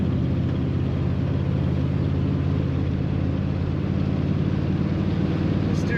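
A 1960 Buick Invicta Custom convertible cruises down the road, its engine and road noise making a steady, continuous low drone that holds level throughout.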